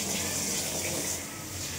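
Tap water runs in a steady, close, full-bodied gush while bangda mackerel is washed, holding a constant level throughout with a slight dip near the end and no talk.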